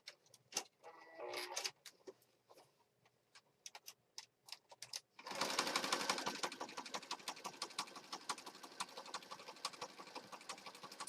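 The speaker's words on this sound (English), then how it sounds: "I'm going to go ahead and sew down these spines." A sewing machine stitches down the spines of a handmade junk journal, starting with scattered taps and clicks before settling into a steady, fast run of even needle beats, close and fairly loud, with no talking.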